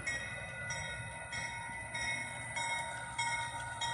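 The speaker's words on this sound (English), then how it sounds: "It's a very slow moving train." A slow-moving train rolls along a siding off the main line, a steady low rumble with faint metallic squeals and tones, heard from a moderate distance with no horn.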